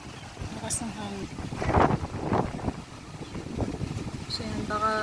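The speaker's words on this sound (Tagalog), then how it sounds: "Lakas ng hangin." Strong wind gusting outdoors around a nipa hut under construction, a steady broadband roar rising and falling throughout, with people talking over it.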